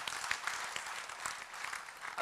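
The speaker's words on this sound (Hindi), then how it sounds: "एक बार जोरदार तालियां बजा दो" An audience at a Patanjali Ruchi Soya business meeting in Kolkata claps together in a dense, continuous wash of applause, fairly close, with no pause across the short stretch.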